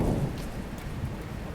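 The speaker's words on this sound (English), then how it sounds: "Can't believe this rain." Heavy rain with a low thunder rumble, a steady wash of falling water with a deeper roll at the start, moderately loud, no voices.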